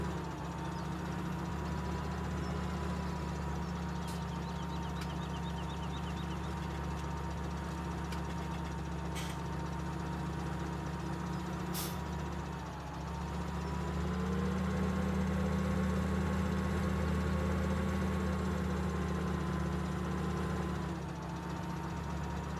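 A tractor fitted with a silage blade chugs in Farming Simulator 17, its engine holding a steady mid-pitched hum that dips and rises slightly as it works, loud and continuous with no voices.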